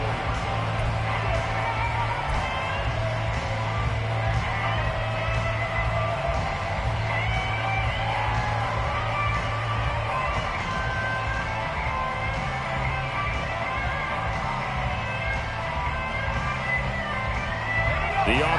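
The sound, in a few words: football stadium crowd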